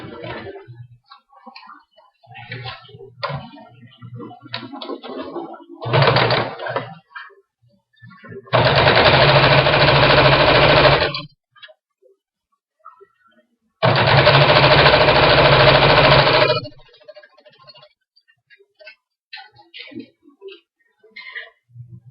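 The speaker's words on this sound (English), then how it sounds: "sew it just like I did the last one" A sewing machine stitches strips of light and darker quilting fabric for a nine-patch block, running in two sustained bursts of several seconds each, close and steady, with softer handling noises and brief starts between.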